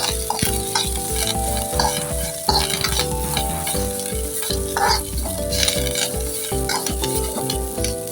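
Curry leaves fry in hot oil for kattu saaru, a North Karnataka-style dish, with a loud continuous sizzle broken by repeated knocks and scrapes of a spoon stirring in the pan.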